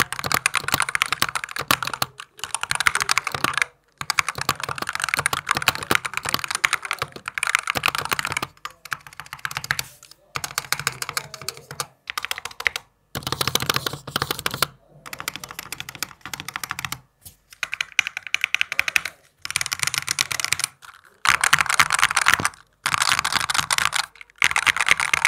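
Fast, continuous typing on a Logitech Pro X TKL Rapid Trigger gaming keyboard with damped, muffled keystrokes, close and steady in bursts with brief pauses, played alone without talk.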